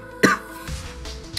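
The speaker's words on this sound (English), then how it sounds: "man, I can't get that cough to go away" A man gives a single short, sharp cough close to the microphone, a quick burst followed by quieter room tone and faint rustling, heard during a Madden 15 Ultimate Team gaming commentary.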